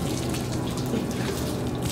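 Moldy fake vomit liquid is poured continuously from a container, a steady close splashing and gurgling stream with no pauses.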